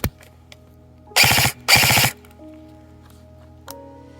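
Two short bursts of airsoft BB gun fire from a tracer-equipped replica with an Acetech iTracer unit, each a rapid cluster of sharp mechanical shots, close and loud against a quiet room.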